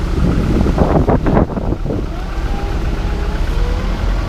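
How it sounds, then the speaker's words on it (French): Steady wind buffets the microphone outdoors in a field where winter peas are being sown, a low, rough rumble that holds throughout with a few stronger gusts early on and no voices. "il y a un peu de vent"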